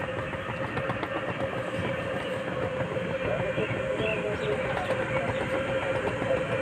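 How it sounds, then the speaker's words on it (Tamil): Ordinary passenger train rolling through Uzbekistan, a steady rumbling drone with rail noise throughout, close and continuous, with faint talk underneath. "Uzbekistan ordinary train."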